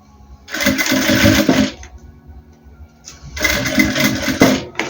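A sewing machine stitches a fabric toiletry bag in two bursts of rapid mechanical whirring, each lasting over a second, separated by a quiet pause, close and fairly loud with no voices.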